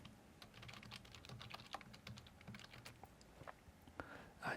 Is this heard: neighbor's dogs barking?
no